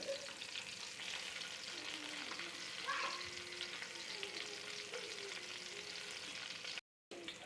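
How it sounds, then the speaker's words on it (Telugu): Chopped green chilli and ginger pieces fry in hot oil with a steady, soft sizzle and faint stirring scrapes, quiet and continuous, broken by a brief silent gap near the end. "టూ మినిట్స్ వేయించుకోవాలి"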